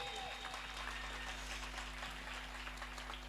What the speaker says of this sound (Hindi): एक बार दोनों हाथ उठा करके तालियां बजाइए